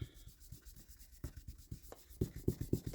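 Antique linen ink being rubbed onto a cardstock tag, a quiet, close, dry scratchy scrubbing in quick repeated strokes that grow a little firmer toward the end, with no talking.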